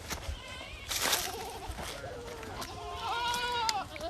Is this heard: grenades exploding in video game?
no